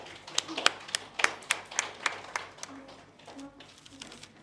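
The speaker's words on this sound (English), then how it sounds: "Please welcome them with a big round of applause." A small audience at a school orientation day claps, sparse and fairly faint individual hand claps in a loose rhythm that thin out and fade toward the end, with a soft voice briefly underneath.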